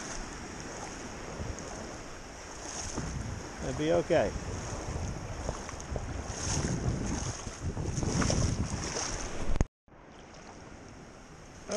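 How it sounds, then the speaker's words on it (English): Small ocean waves wash in at a bay beach under steady wind noise buffeting the microphone, with a person speaking briefly over the continuous surf. "Few small waves today."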